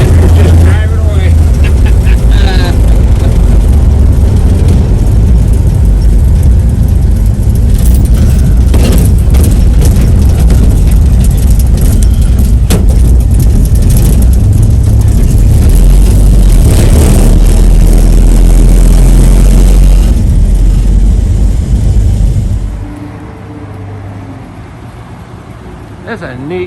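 A 1949 Dodge B1B pickup truck's engine rumbles loudly and steadily as the truck pulls away, the low drone carrying for over twenty seconds before dropping off sharply near the end; a voice is heard over it.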